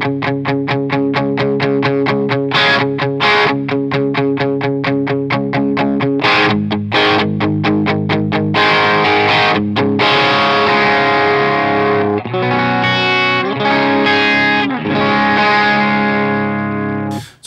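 Crunchy, mildly distorted Stratocaster electric guitar on the crunch channel of a Jet City JCA 100H amp plays rhythmic chord stabs and sustained chords, loud and close.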